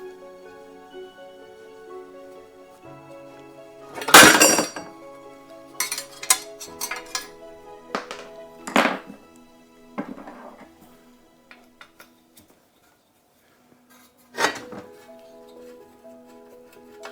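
Metal countersunk screws being taken out and a side panel lifted away from a 1/6 scale Armortek Panzer III Ausf L model: a few sharp metallic clinks and clatters spaced through an otherwise quiet stretch, close and fairly crisp.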